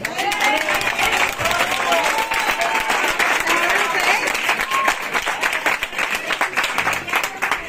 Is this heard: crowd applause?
yes